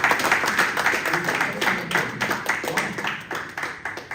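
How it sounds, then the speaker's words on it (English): An audience at a press meeting with the ZoomLion CEO breaks into applause, a brisk, fairly close burst of many hands clapping in uneven rhythm that fills the room for several seconds. "Let's clap for this one."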